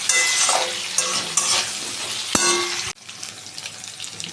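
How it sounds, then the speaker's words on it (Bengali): Potato pieces fry in hot oil in a home kitchen pan while a spoon scrapes and stirs them in loud, uneven strokes. A steady sizzle runs underneath, then it drops quieter after a sharp clack. No one speaks. "আলুটা ভাজছে, এই সময় অল্প করে একটু নুন দিয়ে দিলাম।"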